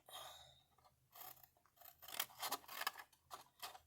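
Paper being cut by scissors while making a box lid, in a quiet room: a close, soft run of snipping crunches in uneven bursts, faint overall.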